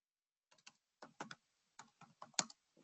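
Fingers tap on a computer keyboard in short, irregular bursts of crisp clicks separated by brief pauses, close and quiet with no other sound.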